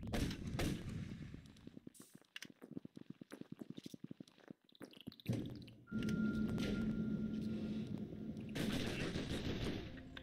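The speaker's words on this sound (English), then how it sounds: "let's drop the grenades" Video game combat with a rapid string of sharp gunfire-like bursts, followed by heavy blasts as grenades are dropped and explode, with a dense rumbling roar and loud impacts afterward; no talking.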